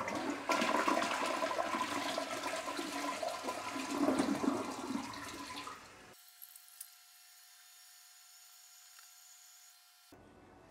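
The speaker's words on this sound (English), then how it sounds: "Let's go ahead and flush it once." A toilet flushes loudly nearby, a rushing swirl of water that lasts several seconds before dropping to a quiet trickle and hiss as the tank refills, tested after fixing a tank that kept running.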